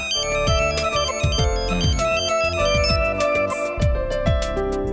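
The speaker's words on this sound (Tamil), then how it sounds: "இவ எதுக்கு இப்போ ஃபோன் பண்ணுறா" A mobile phone rings with an incoming call, a loud, bright melodic ringtone repeating its tune steadily and close by for the whole stretch.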